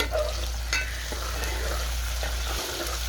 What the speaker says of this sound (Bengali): এই যে লবণ দিয়ে এখন নাড়ানাড়ি